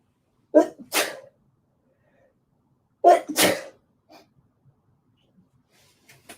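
Two sharp allergy sneezes, each with a quick inhale before the burst, a couple of seconds apart, followed by faint breaths and small sounds.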